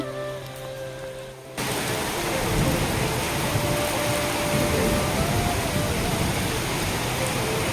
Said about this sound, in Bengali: খুব জোর বৃষ্টি হচ্ছে, ঝড়ও হচ্ছে